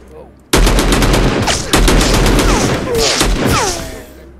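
Rapid bursts of shotgun fire in the online survival shooter Will To Live Online, loud and close, with repeated blasts and gunfire clatter over about four seconds after a brief quiet lead-in.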